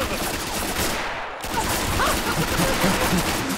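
Gunfire in the video game Mare Nostrum rattles as a dense, continuous fusillade of overlapping shots, loud and sustained with no clear breaks.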